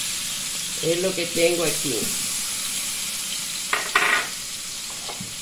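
Garlic paste sizzles and fries in a pan for a refrito while making fanesca, a soft steady crackle under a quiet voice, with a brief stirring clatter near the end.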